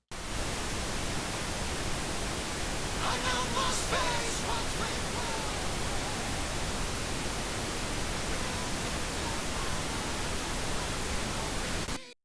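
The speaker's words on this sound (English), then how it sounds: "I can just hear that over the pink noise." Steady, dense pink noise used as a reference signal for mix balancing, a broad even hiss filling the whole stretch at constant loudness, with faint music or other elements barely poking through partway.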